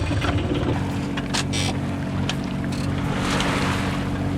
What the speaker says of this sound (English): on goes the engine